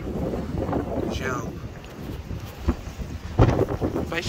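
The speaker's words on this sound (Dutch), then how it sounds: "het waait best hard, wat jullie misschien kunnen horen" Strong wind blows outdoors, a rough, gusty rumble buffeting the microphone, with a few louder thumps, continuous and close throughout.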